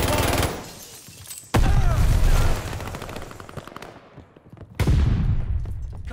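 Gunfire rattles around the hardpoint in a Call of Duty: Vanguard multiplayer match: two loud, close bursts of rapid automatic shots with quieter scattered firing between them.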